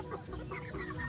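Chickens clucking softly in their new coop, a steady low murmur of farmyard fowl calls close by with no talking.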